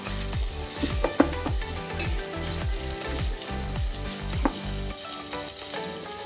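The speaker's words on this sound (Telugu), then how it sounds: "బాగా మిక్స్ చేసుకోండి ఒక్క నిమిషం పాటు." Millet upma with cashew nuts sizzles in a pan while it is stirred, with repeated scraping strokes over a steady fry and no talking.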